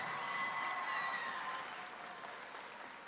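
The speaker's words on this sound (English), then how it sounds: "Let's give them a huge round of applause." A crowd at a Michigan state championship robotics event applauds mentors and coaches, a broad, steady round of clapping with faint cheers and a whistle near the start, tapering a little toward the end.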